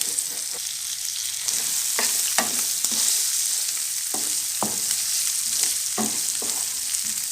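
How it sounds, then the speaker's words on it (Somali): Onion frying in a pan for a Somali pasta dish, with a continuous close sizzle broken by repeated scraping stirs of a utensil at an irregular rhythm. "waxaan ku darsanayaa basal."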